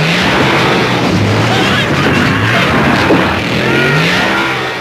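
A large iced coffee delivery truck engine revs and roars steadily at close range, its pitch rising and falling in waves, with faint voices mixed underneath.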